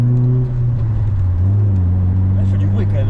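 A Mitsubishi Eclipse idles with a loud, steady low engine hum close by, while people talk over it.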